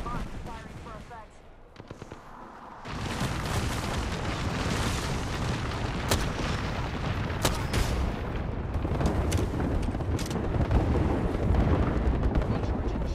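Loud, continuous video game combat with repeated grenade blasts and bursts of gunfire packed densely together, after a short quieter opening, with a player's voice talking over the action.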